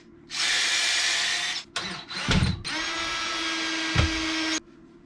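A power drill runs in long steady bursts while boring into material at an off-grid cabin, loud and close, stopping briefly between runs with clunks of handling.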